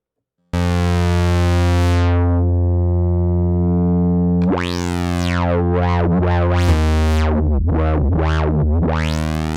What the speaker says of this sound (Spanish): Ahí se oye muy claramente la distorsión que aplica la salida de señal y sobre todo cómo altera la resonancia